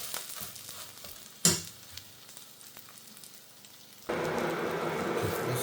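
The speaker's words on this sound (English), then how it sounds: "Now we'll leave it cook for maybe another 2 minutes." Breakfast frying in a pan after being flipped: a soft crackle with a sharp clink early on, then a louder, steady broadband sizzle that holds through the end.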